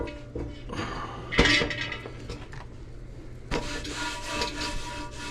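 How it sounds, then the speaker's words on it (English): A pot is wiped down by hand, producing soft rubbing scrapes and a few sharp clinks of metal, close and fairly quiet, with a sharper knock early and a longer rubbing stretch toward the end. "That's why I'm giving it a little wipe down."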